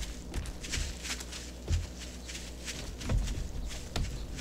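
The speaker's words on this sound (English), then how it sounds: "I like the sound effects of walking around." Footsteps of a character walking in the survival game 7 Days to Die, a steady series of soft thuds at an irregular walking pace, fairly quiet and close, with no talking.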